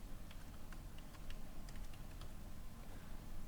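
Typing on a computer keyboard during desktop software work, a steady run of quick key clicks at close range with no talk.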